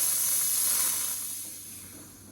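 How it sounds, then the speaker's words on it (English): A Rancilio espresso machine steam wand releases dry steam in a close, steady high hiss that fades gradually toward the end, with no talking. "it's got 2 steam wands, produce a good bit of dry steam, you can see there"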